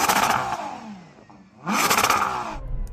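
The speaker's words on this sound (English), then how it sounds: "I can't believe how quickly this engine revs up for an SUV's engine" A powerful Ferrari Purosangue SUV engine revs hard twice, rising in pitch each time with a brief drop between the loud bursts.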